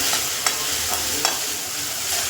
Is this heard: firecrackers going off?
no